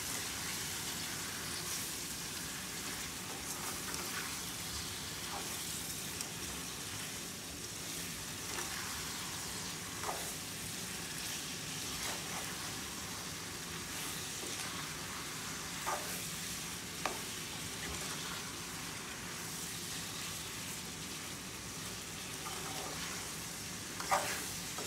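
Masala frying in a pan for a Fiji-style prawn curry: a steady, quiet sizzle with repeated stirring taps and scrapes spread evenly throughout.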